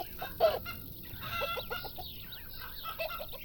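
Crop-raiding birds in a field in Farm Manager 2018, repeated clucking and chattering calls scattered over a few seconds against a steady ambient hum, no voices.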